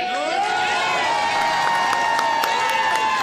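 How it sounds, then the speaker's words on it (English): A rowdy crowd at a slap fight championship at the Inn at Grand Glaze cheers and shouts continuously, loud and dense with whoops and high yells layered over a constant roar. "I can barely hear myself over the crowd"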